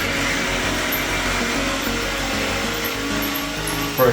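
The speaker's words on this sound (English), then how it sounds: "I've had the screwdriver for years and years." A Black & Decker lithium-ion cordless screwdriver runs with a steady, continuous motor whir, loud and close, holding an even pitch for a few seconds before a brief surge at the end.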